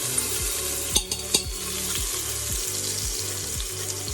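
Two minced garlic cloves frying in a pan, a steady close sizzle with a faint rhythmic pulse and a few sharp clinks of a utensil.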